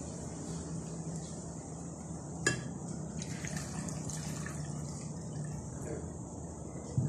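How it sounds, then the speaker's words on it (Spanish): Water pours steadily into a pot holding garlic cloves and onion for pupusa salsa, a soft continuous gushing with a faint tap or clink partway through. "Y le pongo lo que es el agua."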